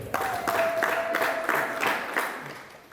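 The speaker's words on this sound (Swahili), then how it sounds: "Jipigieni makofi tena." An audience applauds at a royal family gathering in Iringa, Tanzania, with steady clapping that stays dense and fairly loud throughout, a sustained tone running beneath it and fading near the end.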